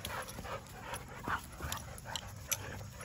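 Two dogs play-fighting indoors, with faint panting, small whimpers and yips over a low, steady background. The sounds come in short scattered bursts, soft and fairly close, with no clear talking.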